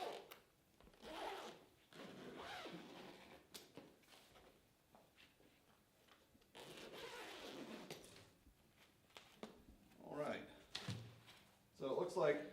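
A DJI Inspire 1 drone carrying case is unzipped with scratchy, intermittent zipper pulls and rubbing, close by and moderately loud, with a person talking between the pulls.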